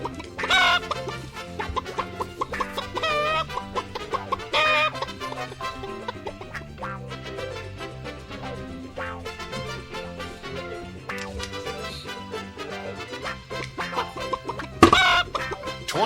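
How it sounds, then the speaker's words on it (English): Chicken clucking, repeated and fairly close, heard over steady background music on a comedy show. "Blank chicken."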